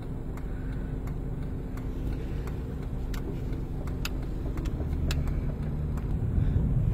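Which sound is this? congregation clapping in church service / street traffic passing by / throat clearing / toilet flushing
street traffic passing by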